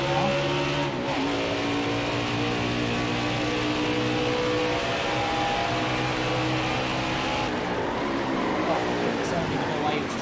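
A race car engine in NASCAR Heat 5 on the Charlotte Roval drones steadily at high revs, its pitch sliding down and rising again through gear changes, with a commentator talking over it throughout.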